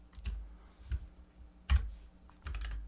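Computer keyboard keys tapped in a few separate clicks while working in Photoshop, sparse and fairly quiet, with no talking.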